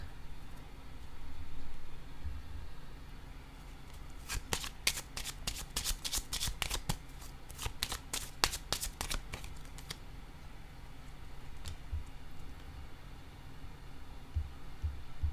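Tarot cards being shuffled during a reading: a quick run of crisp riffling flutters near the middle, over a soft steady background hiss, with a faint flick later.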